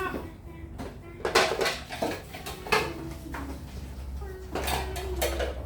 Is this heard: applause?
no